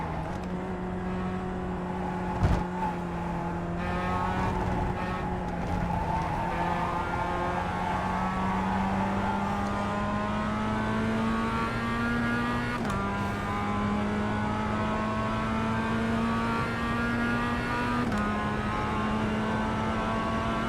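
A race car in the sim game iRacing revving up through the gears, engine pitch climbing steadily with brief shift dips, loud and continuous with occasional tire squeal.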